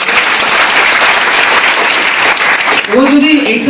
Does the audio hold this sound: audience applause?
yes